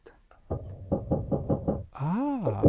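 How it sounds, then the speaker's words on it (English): Five evenly spaced knocks on a door ring out loud and close, followed by a wavering, rising-and-falling synthetic tone. "we knocked on the door that usually lets in our peoples"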